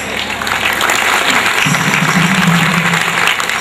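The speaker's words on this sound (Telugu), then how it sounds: "నేను నచ్చిన చోటల్లా మీరు చప్పట్లు కొట్టాలి" Audience at a ghazal concert applauding, steady loud clapping from a large crowd that fills the whole stretch, with a sung or hummed tone rising beneath it midway.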